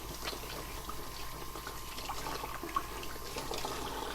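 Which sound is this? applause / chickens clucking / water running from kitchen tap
water running from kitchen tap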